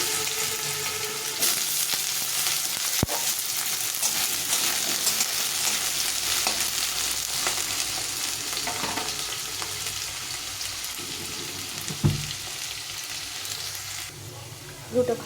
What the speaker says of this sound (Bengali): এখানে কড়ার মানে কড়ার তেলটা গরম হয়ে গেছে আলুটাকে ভেজে নেব